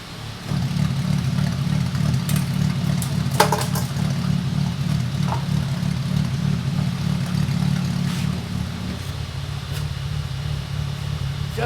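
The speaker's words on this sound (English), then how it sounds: "You literally will hear when I pull the muffler off the difference." Supercharged Mercedes SLK320 running with the muffler removed: a loud, steady, throbbing engine drone heard up close for most of the run, easing slightly quieter near the end, with a few sharp clicks on top.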